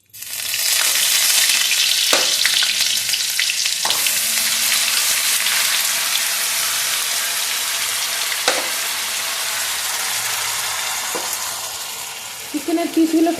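Steady, loud sizzling of chilli chicken pieces frying in a pan fills the whole stretch, with a few sharp clanks of a utensil against the pan.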